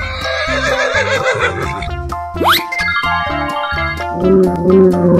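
A horse neighs in the battle game Animal Revolt Battle Simulator. A trembling whinny comes first, then a sharp rising squeal, set against busy, thumping game effects. No one speaks.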